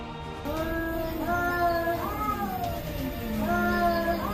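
Drawn-out, wavering yowls of fighting cats rise and fall in long wailing calls, like a tense standoff, fairly close and with no talking.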